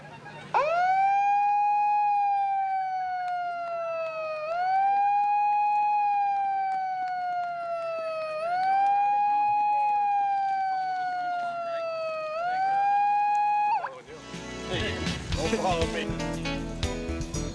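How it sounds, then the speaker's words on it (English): A siren wails in long rising and falling cycles, loud and steady, then cuts off into mixed background noise and voices. "Sound of the siren."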